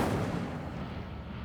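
A fire spell cast in the Hogwarts Legacy video game, a loud dense roaring whoosh of flame that fills the short moment evenly without any talk.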